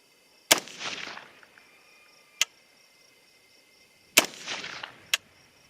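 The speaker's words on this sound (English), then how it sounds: "I'm going to shoot kind of rapid fire, 2 different targets." Sharp rifle shots from a 6.8 SPC II rifle at a range, two loud cracks each followed by a rolling echo, with a couple of fainter distant reports in between.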